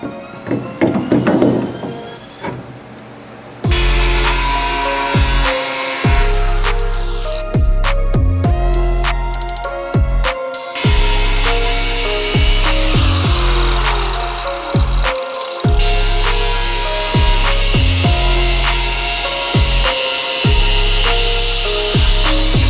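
A power cutting tool works steadily through the sheet-metal chassis of a Honda Civic EG hatch being trimmed for an AWD mount, its loud droning whine shifting pitch in repeated bursts with brief pauses between cuts.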